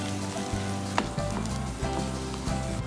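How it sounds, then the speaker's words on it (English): Grated boiled potato sautéing in a pan with garlic and spinach leaves, making a continuous close sizzle and frying crackle with a few soft stirring scrapes over it. "Saute it well with garlic and spinach leaves."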